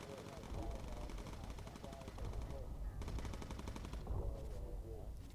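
Rapid machine-gun bursts from aircraft turrets in the WWII bomber game Bomber Crew, USAAF campaign, rattling steadily throughout with flak and engine drone beneath, while someone talks over the shooting.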